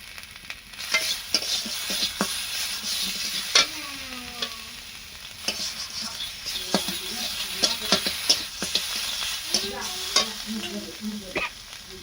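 Spice paste fries in a little oil for a Bengali river bela fish curry, a continuous close sizzle with repeated scraping stir strokes throughout, no talking.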